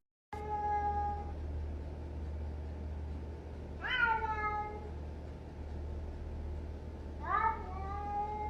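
A cat meows three times, one drawn-out call followed by two shorter ones spaced a few seconds apart, close and clear over a steady low hum.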